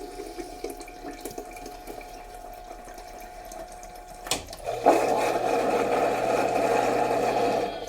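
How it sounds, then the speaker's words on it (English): Water runs into a lamb milk-feeding machine for a rinse: a quiet stretch of faint clatter, a sharp knock, then a steady loud rush of flowing water with a low motor hum underneath. "Now I hit water. I do 1 rinse with water."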